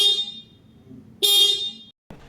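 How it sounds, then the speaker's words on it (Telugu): A single horn on a 2026 Hero Passion Plus disc-brake motorcycle beeps twice up close, a loud bright tone held for about half a second each time with a short gap between, then a brief clunk. "సింగిల్ హార్న్ అయినా సరే సౌండ్ అయితే లౌడ్గానే ఉంది"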